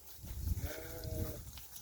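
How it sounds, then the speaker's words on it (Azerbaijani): Sheep of a fat-tailed breed being offered for sale bleat in a flock, several overlapping calls at moderate distance over a low background murmur, with no one speaking. "Qoyun hamısı birinci, ikinci qarına super damazlıq şişəklər."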